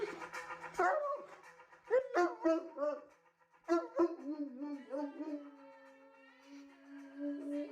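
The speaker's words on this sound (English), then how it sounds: "This is my dog Moose, and he's gonna sing his version" A dog howls and whines in a drawn-out, wavering tone that rises and falls, close to the listener, with short yips and breaks between phrases and a long sustained final note.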